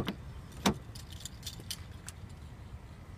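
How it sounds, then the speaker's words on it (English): A 2013 Nissan Maxima SV's keyless entry remote unlocks the car, giving one sharp click followed by a few faint mechanical ticks in an otherwise quiet setting. "I'm going to go ahead and unlock the vehicle."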